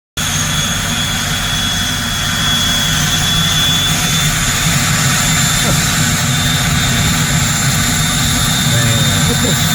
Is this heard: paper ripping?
no